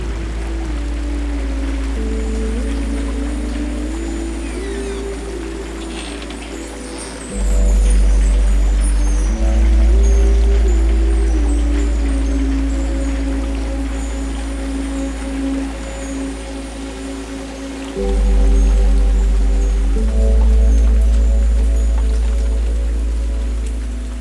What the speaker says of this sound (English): To feel the rain.